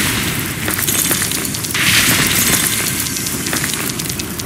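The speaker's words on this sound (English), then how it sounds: "isn't that like a thing of fireworks?" Fireworks bursting in the video game 4 Elements II, a steady crackling, popping din with repeated sharp bangs and a brighter swell midway, loud and continuous with no talking.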